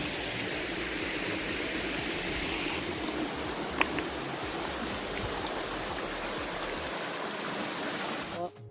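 Steady rushing cold stream water at Thirunelli Temple, Kerala, loud and continuous throughout, with a brief faint tap in the middle and a sudden drop at the end.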